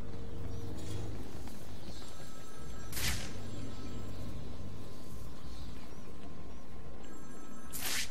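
Phone ringing in the Batman: Arkham City video game, two short bright bursts about five seconds apart over a steady low game ambience and music bed.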